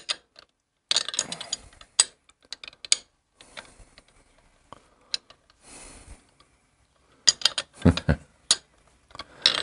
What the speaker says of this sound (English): Now what I'll do is I'll put this lock nut on here. And I'll hold the Allen wrench.